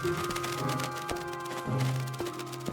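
Rain falls in the blocky video game Minecraft as a steady, hissing wash, with sustained game music tones running beneath it.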